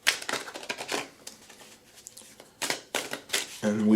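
A deck of Art Nouveau tarot cards is shuffled by hand in several bursts of crisp riffling and flicking, close and fairly loud, with brief pauses between them.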